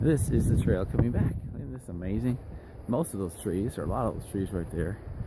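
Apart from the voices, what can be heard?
None of the usual background noises is heard.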